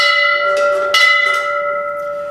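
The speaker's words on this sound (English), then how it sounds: "One other thing that is very much associated with the fire department is the fire bell." A fire department fire bell from an old pumper rings loud and close, a few bright metallic strikes whose sustained tones hang and slowly fade, no talking.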